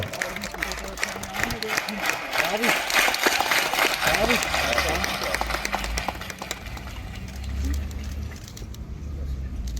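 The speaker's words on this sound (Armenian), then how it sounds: "եկեք եւս մեկ անգամ բարձր ծափարենք" A crowd applauds with steady, dense clapping at an outdoor ceremony honouring record holders, including a 9-year-old boy from Masis, with someone speaking over the applause throughout.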